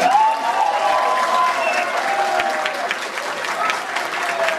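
Audience applause for a singer performing a cover, steady dense clapping at moderate loudness that runs the whole time, with a sustained tone and faint voices underneath.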